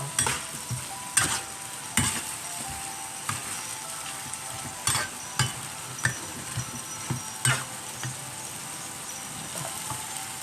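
Sweet and sour pork being stir-fried in a hot pan. Steady sizzling runs throughout, broken by regular scraping clicks of the spatula against the pan.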